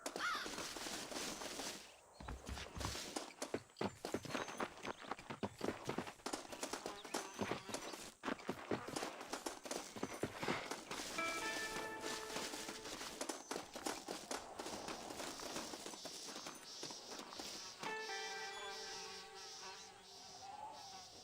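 Horse hooves in the Western video game Red Dead Redemption, a steady clip-clop trotting rhythm at moderate level, mixed with buzzing insect-like ambience and game sounds, with no talk over it.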